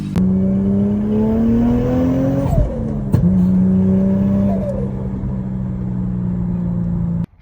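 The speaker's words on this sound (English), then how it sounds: "So car's in first gear and the rear wheels are turning, which means success." A Toyota Chaser JZX100, freshly converted to a manual R154 gearbox, idles and revs up close with a steady drone that rises, dips on a gear change, climbs again, then cuts off abruptly at the end.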